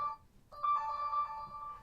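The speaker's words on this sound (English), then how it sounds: "That's the phone." A phone ringtone goes off indoors at a workbench during a Pavo25 v2 drone build: a moderately loud electronic tonal melody with sustained harmonic notes that drops out briefly, then resumes steadily.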